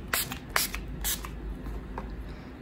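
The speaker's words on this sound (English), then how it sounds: "I'm spraying my face with the Milani Make It Last, the original one." Milani Make It Last original setting spray misted onto a face in several short, close hissing bursts with brief pauses, alone with no talk.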